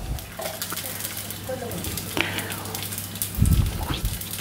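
Mustard seeds crackle and spit in hot oil in a pan while a Kerala buttermilk curry with ash gourd is being tempered, giving a steady fizzing patter with a heavier burst near the end and a voice speaking over it.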